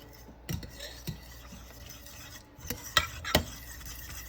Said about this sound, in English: And then here goes the milk. And we stir.